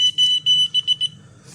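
A rapid run of high-pitched electronic alarm beeps from a radiation detector, six or seven short pulses in quick succession, loud and close over a low hum.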